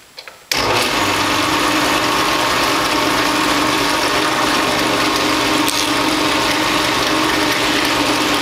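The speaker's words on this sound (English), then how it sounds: "I've got the drill press set up on the highest speed that it will spin" A drill press running at top speed bores holes through thin, soft aluminium flap parts for an RV-7 aircraft wing, starting abruptly and holding a loud, steady mechanical whine with a faint rattle throughout.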